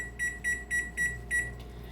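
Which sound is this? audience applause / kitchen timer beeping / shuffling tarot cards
kitchen timer beeping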